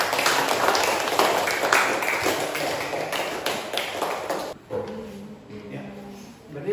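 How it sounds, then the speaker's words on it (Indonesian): A group in an Islamic prayer lesson claps hands together, a dense burst of claps that fades after a few seconds into quieter room noise and shuffling. "Tepuk tangan semua."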